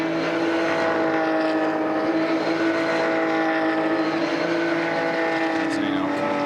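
GT race cars sweep through the corners of the Hungaroring during a GT Cup Open Europe race, their engines making a steady, dense drone that stays loud and even throughout, with a voice likely speaking over it.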